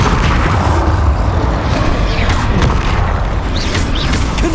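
Confringo fire spell blasts in the Hogwarts Legacy video game: a dense rumbling boom with rolling low-end thunder and scattered crackling bursts, loud and continuous for several seconds with no talking.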